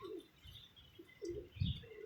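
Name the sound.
pigeons cooing in a box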